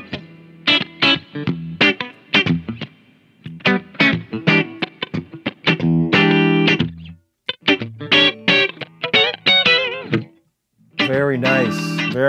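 Electric guitar notes and short phrases played alone, with a spacious reverb tail lingering after each pluck and chord; brief pauses between passages.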